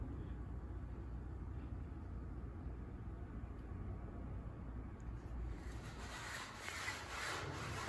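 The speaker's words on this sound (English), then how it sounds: "I'm starting to scrape off the excess flakes" Scraping excess epoxy flakes off a freshly coated garage floor before the polyaspartic top coat, a steady rough, grinding rasp that continues throughout, close and fairly loud, with no talking.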